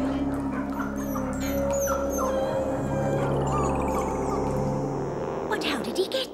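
Cartoon dog whimpering and faintly howling in a spirit kennel for captured dog souls, a thin wavering whine rising over a constant music bed with speech-like sounds throughout.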